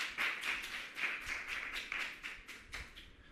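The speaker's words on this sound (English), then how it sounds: "Give her a bigger round of applause for me, please." Applause breaks out at a human rights forum, heard as a short, distant run of sparse, evenly spaced claps that fade toward the end.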